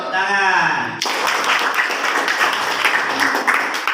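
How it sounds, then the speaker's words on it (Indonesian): Classroom applause from a group of students after a group's discussion presentation in an Indonesian teacher-training session, a short burst of dense clapping that follows a spoken voice and carries steadily to the end. "Tepuk tangan."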